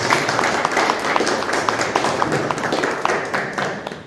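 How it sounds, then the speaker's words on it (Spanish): A live audience at a book presentation for Eliseo Pérez's Humornario breaks into steady, dense applause, many hands clapping together in a sustained wash that eases slightly toward the end. "le damos un aplauso a nuestro hermano Eliseo"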